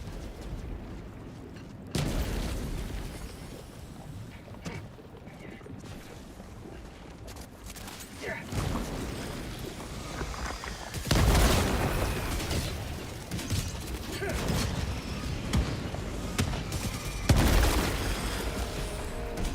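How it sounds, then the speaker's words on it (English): Grenade blasts in the video game Helldivers 2, several heavy booms and bursts landing at irregular intervals amid continuous combat noise and mechanical clatter, loud and close. "Matter grenades."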